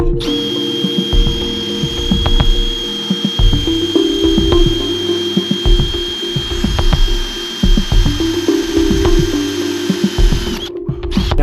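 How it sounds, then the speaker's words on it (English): A power drill fitted with a 1-inch hole saw cuts through a Sea-Doo Spark hull, loud grinding bursts that start and stop repeatedly with a steady whine underneath. "With your drill and your 1-inch hole saw, let's make a hole towards the back of the bowl"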